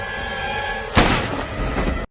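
A single heavy gunshot blast in a film scene cuts abruptly into a quiet background hum, its booming tail ringing for about a second before sudden silence.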